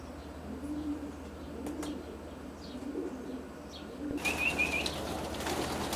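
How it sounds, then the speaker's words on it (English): Racing pigeons, widowhood cocks standing in nest boxes in a loft, give faint coos and rustles, and a brief flutter of wings rises toward the end. "These are Tony's widowhood cocks."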